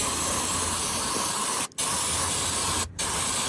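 Continuous loud hiss of an aerosol lubricant spray can, broken by two short pauses where the nozzle is released before spraying resumes.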